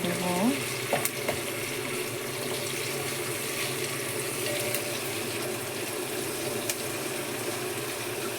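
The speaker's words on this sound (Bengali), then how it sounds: "আমি পেঁয়াজগুলো এখন ভেজে নিচ্ছি" Onions fry in a pan alongside a bay leaf, making a soft, continuous sizzle broken by a few sharp clinks and scrapes early on. The cooking stays fairly quiet, with no voices.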